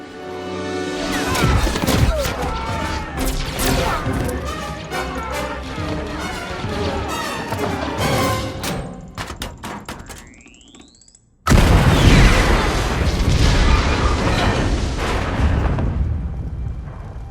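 A grenade goes off during a Rogue One battle scene, a sudden heavy boom that cuts into a brief silence. Dense roaring blasts and crashing chaos run on both before and after it.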